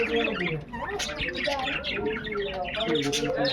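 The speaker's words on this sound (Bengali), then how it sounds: "এই দেখো কত পাখি" Many birds chirp and squawk in a lively chorus around trees near a riverbank home, with bright overlapping calls throughout and a faint voice at times.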